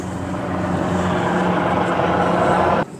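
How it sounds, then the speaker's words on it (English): A helicopter passes overhead, a steady loud rotor and engine rumble that holds constant for nearly three seconds before dropping off abruptly at the end. "There's a helicopter going over."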